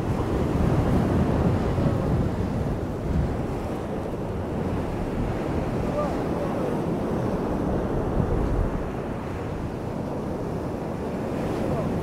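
Strong seaside wind buffets the microphone along with surf at Gyeongpo on the Gangneung coast, a steady loud roar that fills the whole stretch with no talking.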